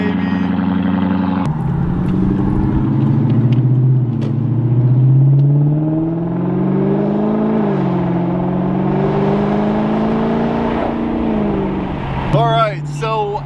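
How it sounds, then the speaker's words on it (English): A Lexus LS 460 starts from cold: a short crank catches into a loud, steady high idle with a deep droning hum that holds evenly and dips slightly near the end, as a brief voice cuts in over it. "let's get this cold start going on the LS"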